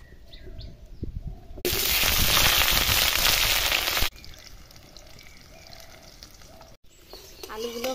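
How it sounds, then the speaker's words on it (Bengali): Potatoes fry in mustard oil in a hot kadai, a loud, dense sizzle that bursts in and runs for about two and a half seconds before cutting off, with quieter kitchen background and faint bird chirps before and after. "আলু ভাজি নেব"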